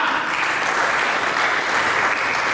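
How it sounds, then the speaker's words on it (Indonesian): A church congregation applauds during a sermon, a thick continuous burst of many people clapping, evenly loud from start to finish with no speech over it. "Berikan tepuk tangan."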